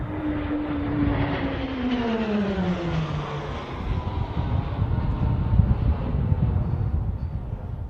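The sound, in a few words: display aircraft formation pass at air show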